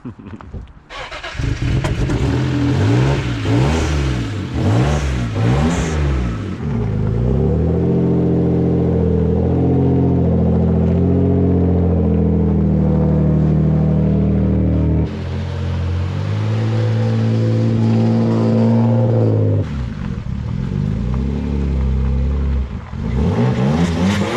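A car engine starts, then revs up and down in several strong swells before settling into a loud, close idle, with further revving later on.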